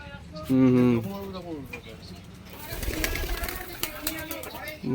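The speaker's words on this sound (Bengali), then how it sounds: "এই যে একটা পায়রা ছাড়া হলো।" Kaldom and Malbai pigeons being released, with a pigeon's low coo rising clearly near the start, then flapping wings and bird calls over the next few seconds as a person talks in the background.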